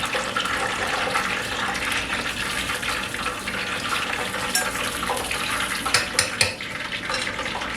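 Hot grease splattering from frying pork cubes for sweet and sour pork, a steady close crackle that breaks into a few sharp pops toward the end, with no talking.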